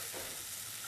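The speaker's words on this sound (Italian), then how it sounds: "guarda insieme a me la cipolla. Per prima cosa comincia a sfrigolare" Chopped onion sizzles in hot oil in a pan while being stirred, a steady dense frying hiss filling the moment with no talking.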